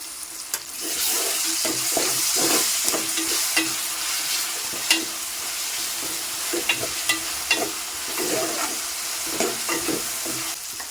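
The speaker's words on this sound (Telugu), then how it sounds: "మిర్చి అయితే ఫ్రై అయినాయి ఇందులో నేను ఫస్ట్ అయితే కొద్దిగా అల్లం అయితే వేస్తా" Chillies and ginger sizzle in a hot pan for chicken curry, a steady, close frying hiss broken by repeated scraping stirs and clinks of a spoon.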